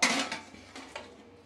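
Dishes and pots clatter and scrape as they're washed, a few close clinks followed by softer rubbing and rinsing, with no voices.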